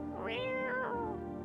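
A cat in the game No, I'm Not a Human lets out a clear, drawn-out meow followed by a second rising meow, close and loud over a steady background hum.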